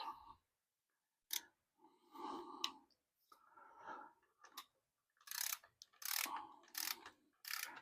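A ratchet tightens the band adjuster on a C4 automatic transmission, heard as close, quick clicking bursts separated by pauses, with a few short fast runs of clicks.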